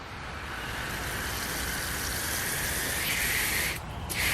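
H.I.S.C. garden hose nozzle on its max stream setting, a continuous loud hissing spray of water that holds steady for several seconds, briefly dips near the end, then resumes, with no voices.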